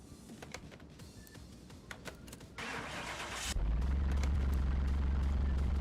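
A car's engine starts up in Car Mechanic Simulator: light clicks and clunks, a short burst of cranking, then a steady loud low idle that holds to the end.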